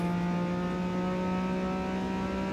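A GTR car engine in Forza Motorsport 8 holds a steady, droning rev at constant pitch, loud and continuous throughout.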